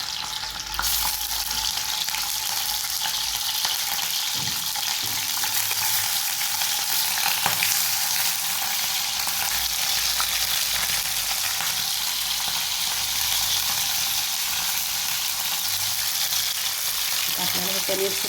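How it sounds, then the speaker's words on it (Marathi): Paneer fries in hot oil over a medium flame for a dhaba-style mixed vegetable dish, producing a loud, dense and unbroken sizzle that holds steady from start to finish. "आता हे पनीरसुद्धा याच्यामध्ये फ्राय करून घेणार आहे"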